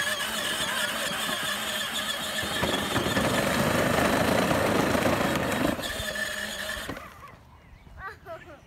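A small electric motor in a toy Batman Dune Racer car whines and buzzes as it runs fast in top gear, loud and steady for several seconds, then drops away as a voice talks near the end.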